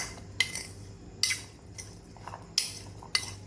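A spoon stirring jaggery or sugar in a bowl, with five sharp metallic clinks at uneven intervals against a quiet background.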